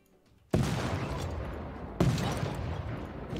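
Gunfire from units attacking in Civilization 6: Gathering Storm, arriving as two loud, sharp onsets about a second and a half apart, each followed by a dense rolling rattle of shots that keeps sounding without a break.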